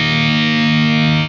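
Electric guitar through a Blackstar AMPED-1 100-watt pedalboard amp on its cab 2 simulation, a single sustained distorted chord ringing loud and close before cutting off abruptly.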